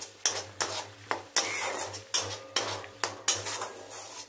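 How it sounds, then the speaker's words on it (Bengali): Masala spices with coriander powder being stirred and fried in a kadai for a Bengali dish, with a ladle scraping the pan in about eight steady strokes over a low steady hum, close and moderately loud. "এবার চলো ভালো করে মশলাটাকে আগে কষে নিই"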